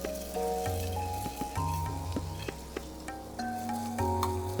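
Rice is stirred into a sizzling vegetable masala tempering in a pan, with steady frying hiss and repeated scraping and clinking strokes of a spoon against the pan, close and alone.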